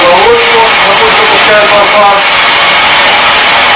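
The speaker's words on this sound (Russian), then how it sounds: "И включаем мясорубку." An electric meat grinder runs steadily, pushing ground meat through to fill a sausage casing for Bavarian sausages, a loud continuous motor whine with faint higher tones drifting over it near the start.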